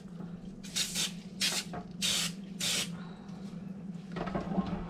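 Cleaner sprayed from a trigger bottle onto a slow cooker, four distinct hissing bursts in steady rhythm, close and loud over a low constant hum, followed by softer rustling handling noise.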